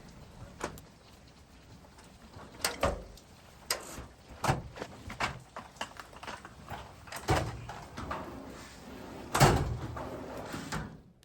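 Several dull knocks and sliding thuds of a Husky metal toolbox drawer being worked back onto its slide tracks, close by, with scattered clatter between them.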